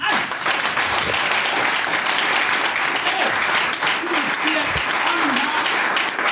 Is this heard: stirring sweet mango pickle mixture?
no